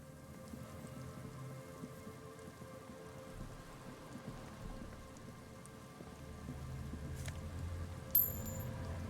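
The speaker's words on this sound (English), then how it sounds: "Oh, it's raining." Rain falls in the Disco Elysium video game as a soft, steady patter, fairly quiet, with a brief sharp knock near the end.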